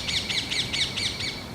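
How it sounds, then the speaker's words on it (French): A small bird calls outdoors, rapidly repeating about six bright, even chirps in a steady rhythm over a faint background hum. "On dirait un petit perroquet."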